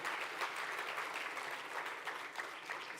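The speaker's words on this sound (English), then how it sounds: "I think we can clap our hands." Audience clapping at a conference livestream, a fairly faint, sustained patter of many hands heard from some distance, swelling slightly at the start and trailing on evenly.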